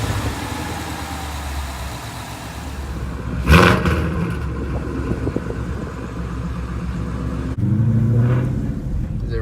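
A 2015-2017 Ford Mustang GT V8 fitted with a 2018 intake manifold runs at a steady, smooth idle close by. It gives one brief rev partway through and a slight rise in pitch near the end, with voices talking over it.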